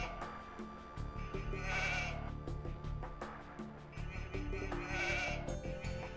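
Two wavering sheep bleats rise from an Age of Empires 2 HD game on the Land Nomad map, spaced a few seconds apart over constant in-game music.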